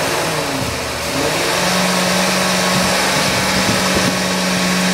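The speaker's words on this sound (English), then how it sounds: "There's the car starting right there, running." A used car's engine idles and revs steadily with the hood open, a constant mid-pitched hum holding a drone throughout, close and loud with a slight dip near the start.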